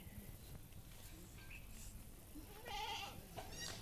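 A mother goat and her young kids in an Indian village make brief bleats, heard faintly against a busy, low background, with a clearer cry near the end.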